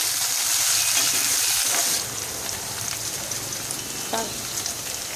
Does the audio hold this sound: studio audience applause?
no